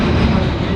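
A CSX northbound freight train rumbles past at close range, a loud, steady roar of heavy rail cars and engine with no distinct breaks.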